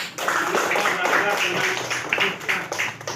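A primary school class claps along during a fourth-grade lesson, a busy mix of small hands with rhythmic, slightly uneven beats, partly over a teacher's voice.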